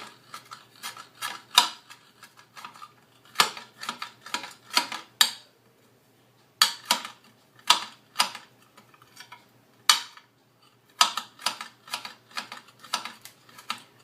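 A knife chops fresh basil on a cutting board, with quick bursts of sharp, crisp taps in clusters separated by short pauses, close and clear with no talking.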